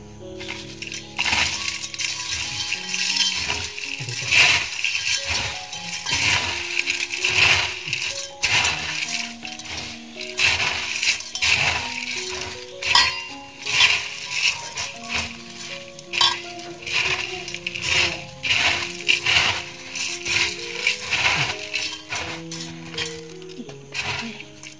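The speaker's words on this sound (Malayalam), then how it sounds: "ഇനി നമുക്ക് ഇതൊക്കെ എല്ലാം പാടെ ഒന്ന് മിക്സ് ചെയ്ത് ഇതൊന്ന് ഉടച്ചെടുക്കട്ടോ" A homemade batch of Kerala spicy mixture snack, with boondi, is tossed and crushed by hand in a metal vessel, giving continuous close clinking, rattling and crunching for a long stretch.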